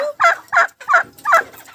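A turkey gobbles in four quick rattling bursts, loud and close, with brief pauses between each call, on a farm.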